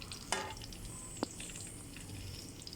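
Banana slices for banana cue frying in hot oil, a continuous close sizzle broken by a couple of sharp clacks as pieces are flipped one by one, no talking.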